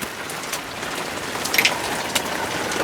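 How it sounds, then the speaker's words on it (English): Heavy rain pours steadily onto a muddy garage yard at night, a dense continuous hiss with scattered drop impacts close by. "dark, still pouring rain, even more mud now"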